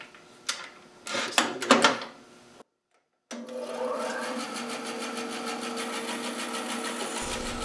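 A bandsaw runs with a steady mechanical whir as pieces are cut off, preceded by a few close knocks and handling clatters and a short silence before the motor hum settles in.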